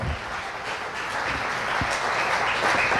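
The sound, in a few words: applause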